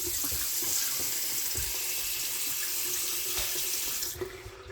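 Water runs steadily from a tap in a small tiny-house build, a close continuous splashing stream that cuts off near the end.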